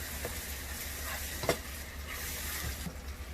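Stew cooking in a pot and being stirred, a steady low simmering hiss and bubble with soft scraping and one brief knock of the spoon, close and continuous, no talk.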